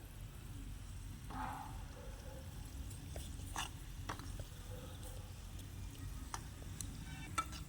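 Miniature french fries bubble in hot oil in a tiny pan with a steady, soft, low sizzle, and a few light clicks and scrapes of stirring sound near and fairly quiet.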